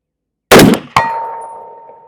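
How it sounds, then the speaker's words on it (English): A .308 Winchester bullet strikes a steel gong target at a shooting range, giving a sharp impact clang followed by a second ring that decays slowly with a sustained metallic tone, heard alone. "Nice solid gong."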